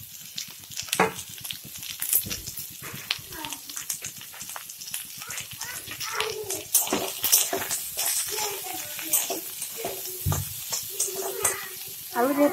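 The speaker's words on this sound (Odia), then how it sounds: "ବର୍ତ୍ତମାନ ଆମେ କାଟି ଧୋଇ ରଖିଥିବା ପିଆଜ ଶାଗ ୟା ମଧ୍ୟରେ ପକାଇ ନେବା।" Spring onion greens hit a pan of half-fried potatoes, giving a steady close sizzle with scraping stirs throughout, while a voice talks over the cooking.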